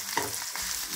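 Garlic paste sizzles in hot oil and is stirred in a pan, a continuous close frying hiss with a light scrape of the spoon and no talking.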